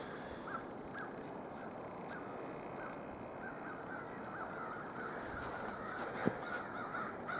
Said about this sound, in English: Blackbird. Friggin' blackbird. Noisy.